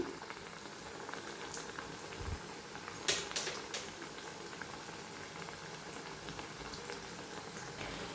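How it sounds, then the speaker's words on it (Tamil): Tapioca vada frying in oil, a quiet, steady bubbling sizzle with scattered faint pops and one brief sharper crackle. "இப்போ வடை வேகட்டும்"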